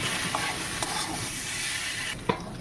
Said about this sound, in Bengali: আলু আর কচুর সাথে মশলাগুলো ভালো করে আমরা কষিয়ে নিচ্ছি